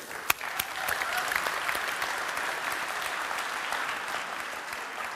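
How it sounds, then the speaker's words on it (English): Audience applause for a volunteer at a tech conference talk on human body upgrades, steady dense clapping from a large crowd lasting the whole stretch, opening with one sharp louder clap. "an applause for the brave volunteer"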